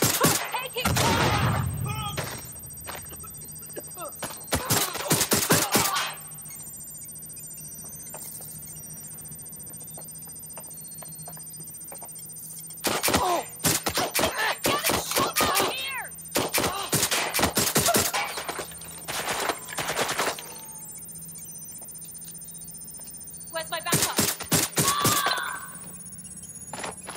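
Gunfire in the video game Watch Dogs Legion: dense bursts of rapid shots in several loud clusters over a steady game soundtrack, with a voice speaking at times.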